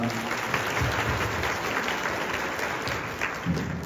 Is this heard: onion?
no